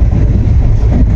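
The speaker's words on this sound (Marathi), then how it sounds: "आता ट्रेन दादरला आली आहे." Mandovi Express passenger train running between Mumbai and Madgaon, heard from inside a coach near Dadar: a loud, steady low rumble of wheels and carriage with no talk.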